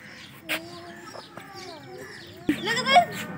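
Chickens at a village home give soft clucks and brief calls at moderate distance, with a louder burst of squawking near the end and a person talking over them.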